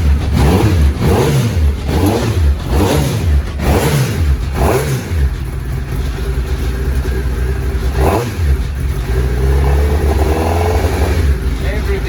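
A Classic Mini with a Hayabusa engine runs close by, its engine revving and dropping back in uneven bursts while a person talks over it.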